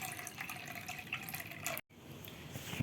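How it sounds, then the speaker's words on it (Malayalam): Squeezed tamarind water pours into a clay pot, a soft steady trickle and splash that stops abruptly, then a quiet gap and a faint clunk. "നമുക്കിനി വാളംപുളി പിഴിഞ്ഞത് കൂടി ഇതിലേക്ക് ഒഴിക്കാം."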